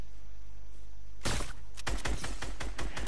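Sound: sniper rifle shots in a video game

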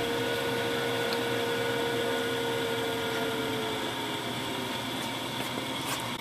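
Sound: small coffee roaster drum motor and fan running

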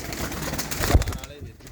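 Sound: pigeon cooing

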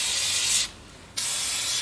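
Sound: oil being sprayed onto brake drum puller

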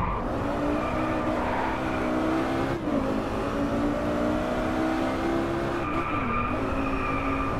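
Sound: Audi R8 V10 Coupe Plus car racing and braking, DriveClub video game

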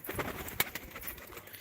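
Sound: pigeons cooing

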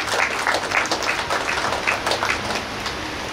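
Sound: wedding guests applauding

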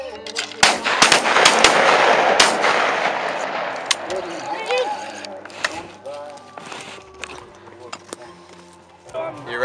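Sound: gunshots at outdoor shooting session

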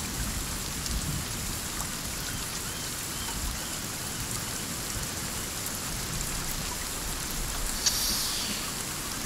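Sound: rain in the video game Sons of the Forest

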